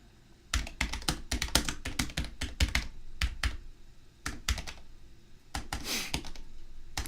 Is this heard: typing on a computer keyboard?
yes